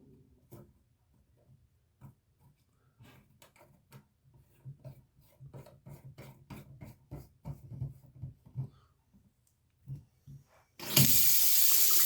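Tap water gushes from a faucet after hard-water calcium buildup is cleaned out, bursting on loud and steady at high pressure in the final second, following scattered clicks and clatter from handling the fixture.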